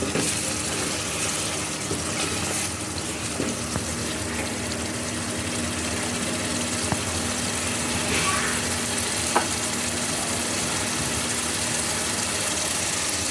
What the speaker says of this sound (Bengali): এখন সবগুলো মশলা আমি একটু গাঢ় করে কষিয়ে নিব।